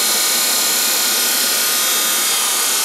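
A steady, loud broadband whoosh and hum from an 86% efficient electric motor spinning a fan, unchanging throughout with no pauses and no voices.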